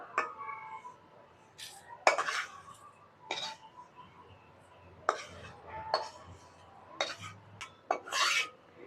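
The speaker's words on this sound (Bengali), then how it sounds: "এবার আমি সুজিটা একটা বাটিতে ঢেলে নেবো" Roasted semolina is scooped from a hot wok into a bowl, with a close series of irregular rasping scrapes and metallic clinks from the spoon and pan, separated by short quiet gaps.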